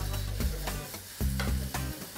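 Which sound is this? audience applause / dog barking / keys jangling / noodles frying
noodles frying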